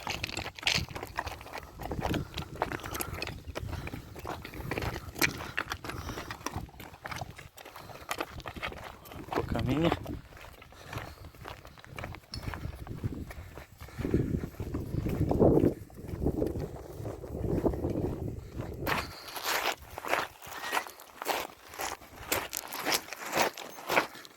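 Horses, a Percheron mare among them, walk to their watering place, hooves clip-clopping in an uneven stream of close, soft thuds on the ground, with rustling and bursts of louder activity throughout.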